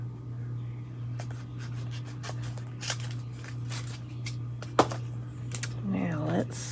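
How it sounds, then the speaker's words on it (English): Scissors snip along one side of a paper craft fan in a series of short, crisp close-up cuts over a steady low hum, and a voice speaks briefly near the end. "I'm gonna cut on this side of this fan"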